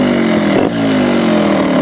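Trials motorcycle engine revving loud and close while the clutch is adjusted, a steady buzzing drone with a brief dip partway through.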